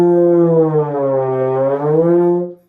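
A solo trombone sustains a full, brassy tone and bends gradually downward in a slide from F toward C, ending on a held note that cuts off cleanly after under three seconds.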